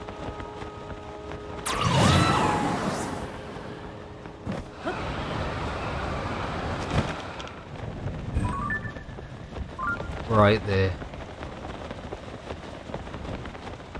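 Rain and rumbling thunder of a thunderstorm in the Zelda: Tears of the Kingdom video game, a steady wash of rainfall with a loud thunder swell early on and later crackling strikes, while someone talks briefly.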